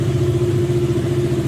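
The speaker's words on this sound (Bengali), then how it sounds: "থ্রটল দিয়ে তোমাদেরকে শোনাচ্ছি" Motorcycle with no silencer fitted, engine held at a steady throttle, giving a loud, close, throbbing exhaust drone with a constant pulsing rhythm and no voices.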